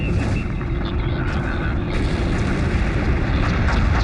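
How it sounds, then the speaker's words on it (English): Deep, continuous rumbling roar of orbital surface bombardment in the Homeworld Remastered video game, steady and loud throughout, with a faint voice layered over the booming. "Prepare for immediate surface bombardment."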